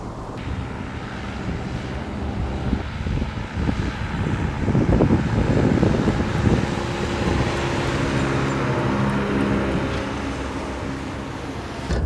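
A huge 1939 Mercedes 770 open touring car weighing about four tonnes drives along, giving a steady low rumble mixed with wind buffeting. It swells slightly midway, and no one speaks.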